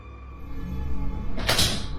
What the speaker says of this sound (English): the door opens wide on its own and then shuts again